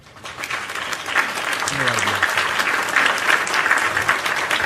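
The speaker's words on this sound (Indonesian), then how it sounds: "Tepuk tangan luar biasa" An audience breaks into applause at a motivational talk, clapping swelling from quiet to a sustained dense round, with a brief voice heard early on beneath it.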